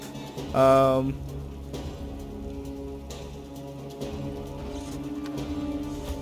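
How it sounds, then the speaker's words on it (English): Rain spell cast in the Divinity Original Sin 2 video game, a steady hiss of falling rain running the whole stretch, with a voice-like tonal burst near the start and game music underneath. "Gonna cast a rain here just to keep all this covered in water."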